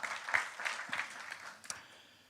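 A church congregation claps together during a sermon. The applause is steady and moderately loud, with scattered sharper claps, and it thins out toward the end.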